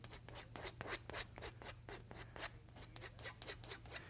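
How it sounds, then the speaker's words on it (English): A scraper takes paint off a surface in rapid, rhythmic scratching strokes, soft and close, with no talk. "I scrape off the paint here and bring it down here."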